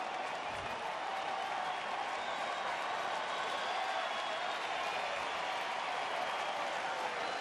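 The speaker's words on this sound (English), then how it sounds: "Crowd here in the fourth inning starting to get behind Alexi" A baseball crowd at a Rays–Rangers game in Texas rumbles steadily in the fourth inning, a distant wash of cheering and scattered clapping that stays low and constant throughout.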